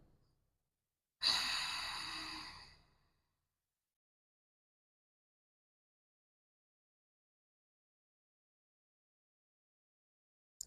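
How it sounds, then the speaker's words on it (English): A single long, smooth Ujjayi breath during a calm yoga flow, close and alone, rising suddenly and tapering off over about two seconds, followed by near silence. "You bring in Ujjayi breath, which calms the nervous system."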